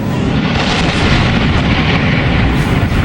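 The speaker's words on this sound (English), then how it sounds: "the massive explosion on board 2 gas tanker barges in Mobile," A massive explosion on board two gas tanker barges in Mobile, Alabama, heard as a loud, continuous roaring rumble of fire and blast noise that fills the scene without pause, with no talk.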